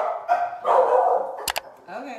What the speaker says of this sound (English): Sorry, my dogs are so loud.